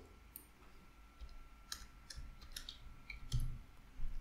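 Someone types a short word on a computer keyboard, a handful of light clicks in a loose, uneven rhythm, close but soft over quiet room noise.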